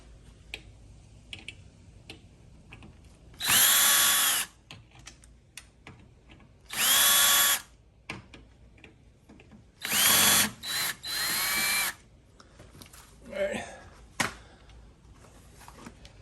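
A Ryobi cordless drill backs screws out of a shelf being dismantled, sounding in four loud whirring bursts of a second or so each, close by, with small clicks and handling noises between them.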